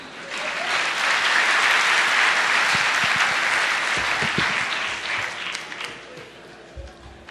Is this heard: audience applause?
yes